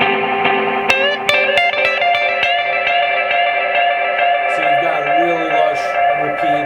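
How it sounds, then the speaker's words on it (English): A Korg SE-300 stage echo, with its spring reverb put only on the echoes, carries a sustained harmonic instrument tone that blooms into lush, repeating reverberant tails. Sharp plucked attacks stand out, and the sound stays loud and steady throughout. "You can also just put the spring reverb on the echoes,"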